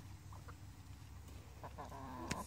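A chicken wearing a leash harness gives a few soft, short clucks, close but quiet against a low background hum.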